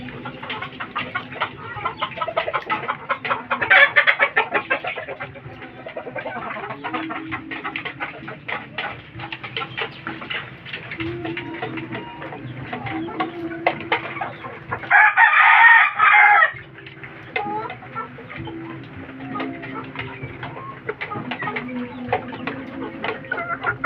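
Gamecock stags and chickens from a recent hatch cluck continuously at close range, with a loud rooster crow standing out around the middle and another earlier, amid busy pecking and scratching noise.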